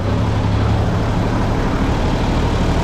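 A tractor engine runs steadily on a steep mountain road in the Artvin highlands, a loud, continuous low rumble close by with no pauses or talk.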